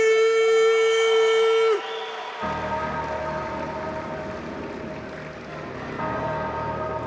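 A jiu-jitsu final crowd roars and applauds a finalist, a broad continuous wash of clapping and cheering that follows a tonal horn-like sound at the start.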